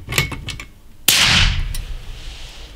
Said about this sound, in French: Je vais tirer une 4e munition dans les blocs en caoutchouc afin de supprimer le bruit de l'impact de munitions d'ogive